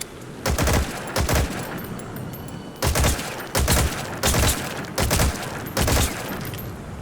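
Unsuppressed gunfire in Metal Gear Solid V: The Phantom Pain, seven loud, sharp bursts of shots at uneven intervals, each cracking out over a constant low background hum.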